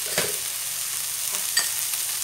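Pork belly and aromatics stir-fry in a dry pan for a pineapple pork soup, a steady close sizzle with a couple of sharp spatula scrapes and no talking.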